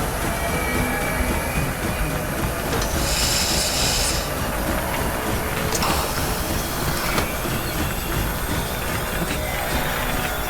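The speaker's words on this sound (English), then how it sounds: "train was unexpected" A train passing in The Long Dark survival game, a steady loud rumble of rolling wagons with clattering wheels and brief squeals, continuous throughout with no talking.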